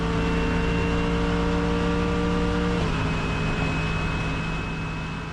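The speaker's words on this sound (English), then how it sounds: "full throttle the whole way through turn 12 and onto the main straight to finish lap around Phillip Island in a Mercedes AMG GT3 car" A Mercedes AMG GT3 race car at full throttle out of turn 12 onto the main straight at Phillip Island, its engine a loud, steady, tonal roar whose pitch drops as it shifts up, running continuously and alone.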